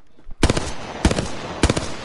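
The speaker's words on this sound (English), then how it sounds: "Oh, I'm getting shot. Taking fire." Video game gunfire from Apex Legends: three short, close bursts of rapid automatic shots, evenly spaced over two seconds, with no talk over them.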